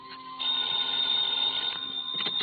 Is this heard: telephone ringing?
yes